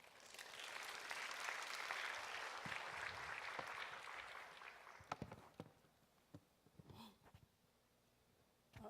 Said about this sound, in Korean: 여러분 크게 격려의 박수 해주시고